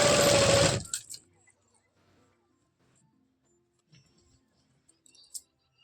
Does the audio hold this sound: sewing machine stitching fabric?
yes